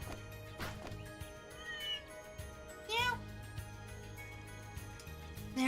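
A cat meows several times in the video game Trails Through Daybreak, short rising calls spread over steady background music, with a louder meow at the end.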